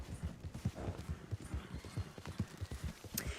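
Horse hooves clip-clop in a steady rhythm across the Red Dead Online game world, a run of close, regular thuds with a brief whinny-like sound near the end.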